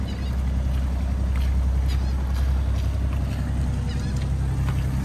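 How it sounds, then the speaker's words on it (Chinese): A small boat is towed behind a larger boat at sea, giving a steady deep engine drone with washing water noise throughout, without talk. "我们的小船拖在我们的大船后面"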